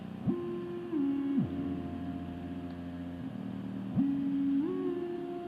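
Synthesizer pad holding a long, low chord that shifts pitch a few times, smooth and sustained, fairly quiet and alone with no speech.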